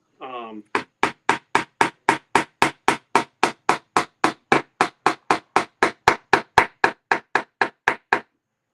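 A tiny hammer drives a nail into wood with a long, steady run of about thirty sharp, evenly spaced taps, close and crisp, following a brief voiced sound at the start.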